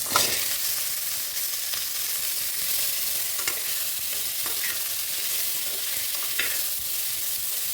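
Tomato, drumstick pieces and potato fry in a pan for sambar, a constant close sizzling hiss broken by occasional scraping stirs.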